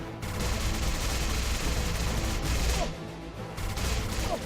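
StarBreak turrets fire continuously in a dense, loud rattle of rapid shots, broken by two brief gaps, with game sounds and no talk.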